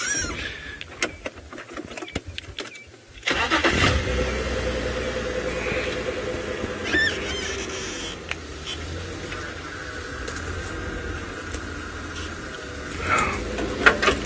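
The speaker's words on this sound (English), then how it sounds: "So I'm just going to move the car slightly up to the side so we can see if we get a glimpse of her coming" Safari vehicle engine idling and moving slowly during a sunrise game drive, a steady low rumble running through nearly the whole stretch, with bird calls and outdoor ambience over it.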